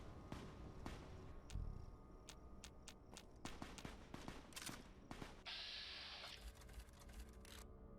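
Sharp bursts of gunfire in the video game Fallout: The Frontier crack repeatedly, some single shots and some rapid clusters, with a brief hissing noise partway through.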